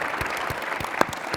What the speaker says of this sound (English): If you'd give him a round of applause.